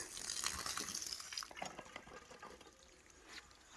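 Water is poured into a wicking grow tub reservoir made from a cattle lick tub, a faint close splashing and trickling that tapers off over a few seconds.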